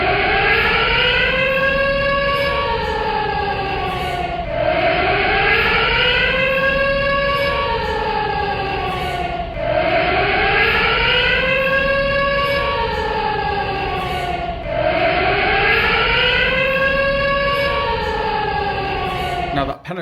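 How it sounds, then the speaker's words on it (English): Emergency alert siren sounding from mobile phones in Israel, a loud piercing wail rising and falling in four regular cycles of about five seconds each, filling the whole span without talk. "that penetrating siren noise that you heard is what comes through on my mobile telephone"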